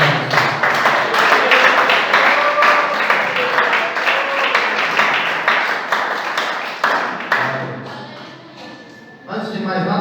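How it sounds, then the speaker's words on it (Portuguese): A church congregation at a Friday worship service claps together joyfully, loud and sustained rhythmic applause filling the room before it thins and fades near the end. "Louvar o Senhor com palmas bem alegres."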